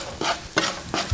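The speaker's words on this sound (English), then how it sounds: "Keep moving the ingredients around the pan so they cook evenly." Garlic and other ingredients sizzle in butter in a pan while a utensil scrapes through them in three quick, close stirring strokes.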